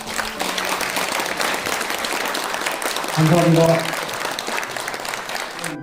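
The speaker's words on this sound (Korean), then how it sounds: "힘찬 박수를 보내주시기 바랍니다." Audience applause at a restaurant association's annual general meeting, steady clapping from a roomful of people throughout, with a brief spoken thanks partway through.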